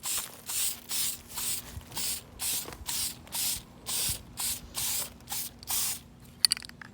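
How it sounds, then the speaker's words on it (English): An aerosol spray can lays a light tacky coat onto sanded metal motorcycle parts in a series of about a dozen short, evenly spaced hissing bursts. Each burst is close and moderately loud, with a few small clicks at the end. "So I'm gonna do one tacky coat, just pretty light, and then I'll do 2 more coats just so everything sticks."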